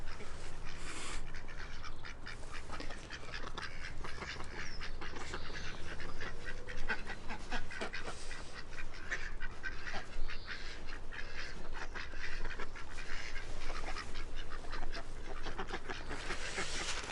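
Ducks quacking steadily, a dense, continuous chorus of overlapping quacks and honks, fairly close and loud throughout, with no speech over it.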